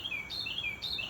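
A small bird chirps outdoors, giving two or three quick, high, clear calls at a steady pace over a soft background hiss.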